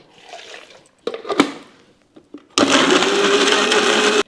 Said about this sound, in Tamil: இதை போட்டு நல்லா நம்ம வந்து இப்போ கொஞ்சம் லைட்டாக தண்ணி ஊற்றி அரைச்சிடலாங்க.